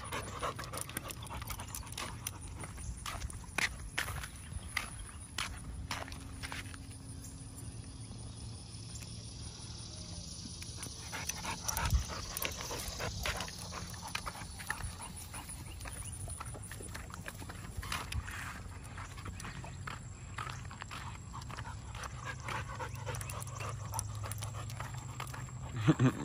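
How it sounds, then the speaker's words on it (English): An XL pit bull and a chihuahua pant steadily while moving around, with claws tapping and scuffling on the floor, close by and fairly loud throughout. "You see the little dog, y'all."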